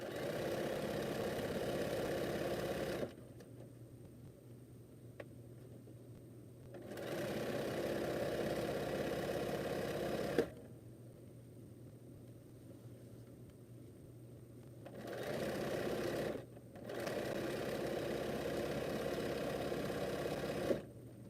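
A sewing machine stitching the border of a large square quilt, back-stitching at the edge, runs in three steady whirring bursts with short quiet pauses between them, close and even.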